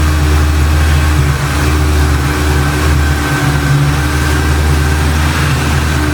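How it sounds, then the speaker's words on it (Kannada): Jeep engine idling while warming up, a steady low drone with constant hum, close and unchanging, no voices. "ಒಂದು ಸ್ವಲ್ಪ ಇಂಜಿನ್ ವಾರ್ಮ್ ಅಪ್ ಆಗಲಿ"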